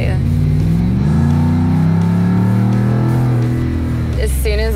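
A car fitted with a throttle control module accelerates, its engine droning loudly from inside the cabin and rising gradually in pitch, with voices briefly at the end.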